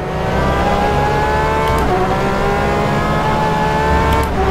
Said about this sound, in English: Use all the revs and all the mix the engine can give me.